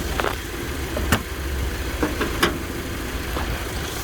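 A 2017 Subaru XV 2.0i engine idles steadily with its bonnet open, giving a low continuous hum, while a few sharp clicks and knocks sound nearby.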